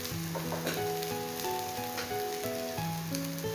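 Soybean chunks frying in hot oil, a continuous bright sizzle and crackle with stirring, heard alone at moderate loudness.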